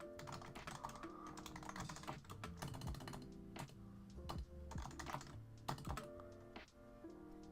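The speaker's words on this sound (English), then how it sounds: "I'm going to just type that in here." Rapid clattering keystrokes on a computer keyboard go on steadily throughout, close and fairly quiet, with uneven bursts and brief pauses and no voices.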